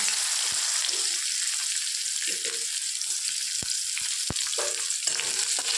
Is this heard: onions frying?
yes